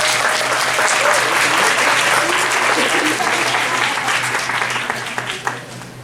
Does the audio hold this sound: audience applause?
yes